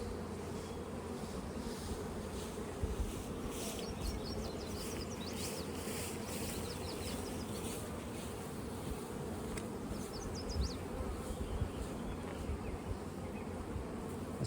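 Honeybees hum steadily around an open beehive during a frame inspection, a dense continuous drone close by with no talking.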